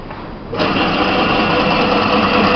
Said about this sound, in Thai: จากนั้น ปั๊มลมจะเริ่มทำงาน